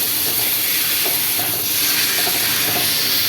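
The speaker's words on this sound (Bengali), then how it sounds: "এবারে আমি কচুর শাকটা ঢেলে দেবো।" Taro leaves tipped into a hot pan of fried onion and garlic, giving a loud, continuous hissing sizzle of steam that holds steady throughout.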